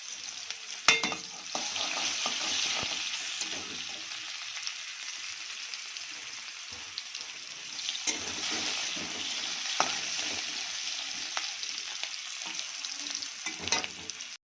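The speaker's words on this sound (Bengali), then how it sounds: "পেঁয়াজটা লাল লাল করে ভাজা হয়ে গেছে" Onions fry in a pan with a soft, continuous sizzle as a utensil scrapes and stirs at irregular moments, quiet and close with no talk.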